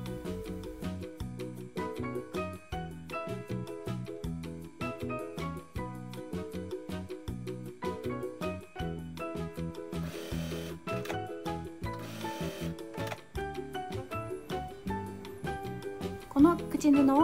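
A sewing machine runs a steady, rhythmic stitch along the folded edge of quilted fabric, sewing the opening band of a spring-clasp pouch, close and continuous under a layer of tonal background sound.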